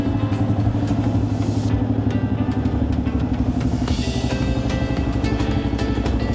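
A motorcycle engine hums steadily at a constant pace with wind buffeting, heard close from the rider's position in Kenya.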